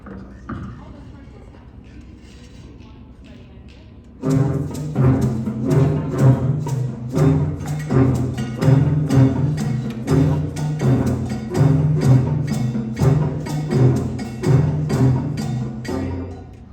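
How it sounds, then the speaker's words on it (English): A high school band layers many cowbells over a repetitive rhythmic ostinato, the ensemble entering loudly after a quieter opening and continuing in a driving, steady pulse of metallic strikes and sustained tones. "So now we're adding in cowbell, all of the cowbells"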